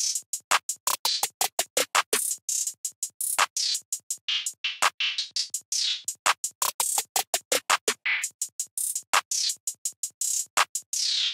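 A crisp snare drum plays a busy, fast pattern of sharp hits, broken up by quick rolls, loud and close with no talking.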